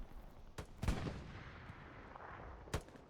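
A few sharp gunshots crack out in the video game Hell Let Loose, two close together early and one more later, over a low steady background hum.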